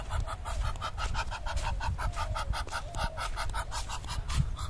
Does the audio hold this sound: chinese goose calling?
yes